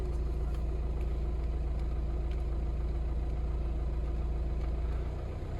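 A Vauxhall Astra engine undergoing DPF regeneration idles with a steady, loud low drone that holds even and rises slightly by itself, dipping only at the very end, with no talking.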